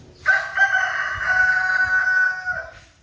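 A rooster crows once, a loud, drawn-out call lasting about two seconds that rises and holds before trailing off, close to the microphone, with a low rumble of background noise beneath it.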